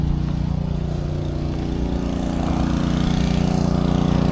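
A tractor pulling a water wagon tank runs its engine in a steady, rumbling drone. It sounds close and loud, with an unchanging pace throughout and no voices.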